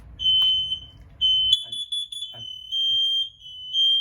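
Four smoke alarms being tested beep shrilly together in long, loud high-pitched tones, briefly broken then resuming, nearby and with no talking.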